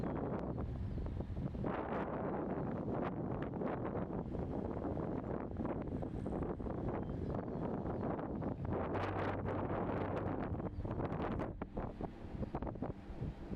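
Strong storm wind gusts of 70 to 80 mph roar and buffet the microphone without letup, a dense rushing blast that eases only slightly near the end.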